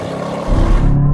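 A Chevrolet Corvette launches hard under launch control, the engine note jumping into a loud, deep surge halfway through and holding strong as it pulls away.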